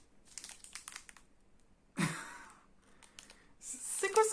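Crinkly plastic wrapper of a Japanese KitKat torn open at close range, a sharp crackling rip followed by softer scattered rustles and a brief burst of crinkling at the end, with no talking.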